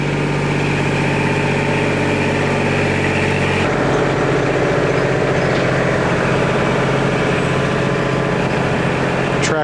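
A new tractor fitted with forks idles steadily at close range, a loud, continuous low engine drone with a slight change in tone partway through, about to lift old mobile home steps out of the ground.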